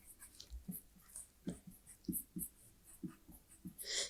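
Marker or chalk strokes on a board during a Class 11 organic chemistry lesson: quiet, scattered short scratches and taps in an irregular rhythm, faint and close, with no talking.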